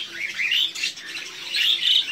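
Pet birds in a home cage chirp and tweet in quick, fairly soft bursts, with a brief pause midway and a faint low hum beneath.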